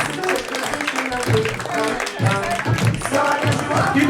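Comedy club audience applauding and cheering after a stand-up set, a dense wash of clapping with a host's voice talking loudly over it throughout.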